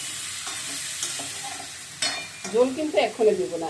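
Spice paste being stirred and fried in a pan, with a scraping stir and soft sizzle throughout, and a voice talking over the final second or so.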